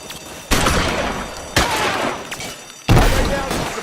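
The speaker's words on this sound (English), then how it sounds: "Lay down some suppression fire" Bursts of rapid suppressing gunfire in the L.A. Noire game, three loud volleys starting abruptly one after another, each a dense rattle of shots that tails off before the next.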